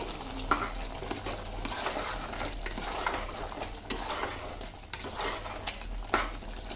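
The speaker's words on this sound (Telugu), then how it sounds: "డ్రై మసాలా పొడి వేసుకుంటున్నాను తగినంత ఒక్కసారి కలిపేసుకొని" A spoon stirs dry masala powder into chicken curry cooking in a pressure cooker, scraping and clinking against the pot over a steady sizzle, close and fairly loud.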